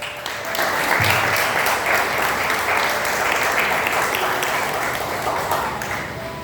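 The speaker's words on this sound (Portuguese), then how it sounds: "As palmas louvam a Deus." A church congregation claps in sustained, dense applause that holds steady for several seconds, loud and filling the room, with no clear speech over it.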